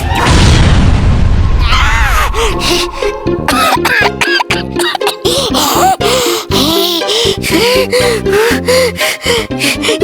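An explosion goes off in the Baalveer superhero TV show: a loud, broad blast at the start that fades over two seconds, followed by a busy run of choppy effects and clatter.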